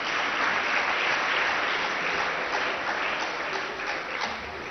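Loud, sustained audience applause at a Republic Day ceremony at Acharyakulam, Haridwar, a dense wash of many hands clapping steadily throughout, easing slightly near the end.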